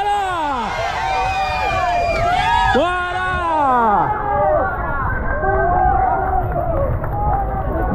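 Spectators at the 2022 Rio de Janeiro marathon cheer runners in the rain, a dense, close crowd of overlapping shouts and whoops that continues throughout, with one voice calling out nearby.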